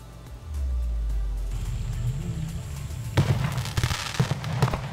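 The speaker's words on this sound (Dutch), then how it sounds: "deze geeft dus een knettereffectje en 2 hele kleine knalletjes eraan" A Thunderking Turbo Edition firecracker goes off: a low rumbling hiss builds, then bursts into dense, close crackling with a few small sharp bangs near the end, with no voices over it.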